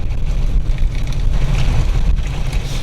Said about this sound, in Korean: 바람 이왜 이렇게 많이 부네?